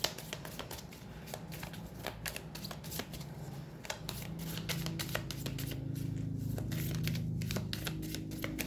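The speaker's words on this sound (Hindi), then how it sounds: "पहले हम कुछ ऑरेकल डेक्स और ऑरेकल कार्ड्स लेंगे।" A deck of oracle cards is shuffled by hand close up, giving a steady run of crisp riffling and flicking taps over a faint background hum.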